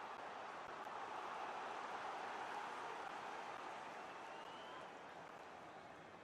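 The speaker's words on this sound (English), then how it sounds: "You can hear the excitement from the crowd because good chance this for an equaliser." Broad, steady roar of a football stadium crowd at Eibar vs Barcelona, an excited wash of cheering before a corner kick, constant and distant without distinct voices, easing slightly toward the end.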